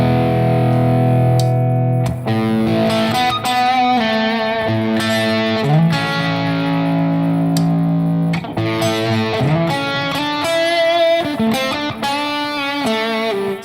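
Electric guitar through a fuzz pedal with the bass boosted, thick and distorted, strummed chords and ringing single notes played loud and continuous, with no talking.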